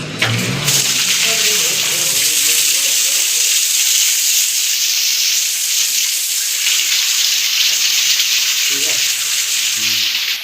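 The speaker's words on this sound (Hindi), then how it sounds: "अब देख सकते हैं एमसीबी उठाते ही इसमें लाइन आ गया और हमारा पानी भी आने चालू हो चुका है" A submersible water pump runs after its breaker is switched on, giving a steady, loud hiss of gushing water that fills the whole clip, with a brief voice near the start and another short voice near the end.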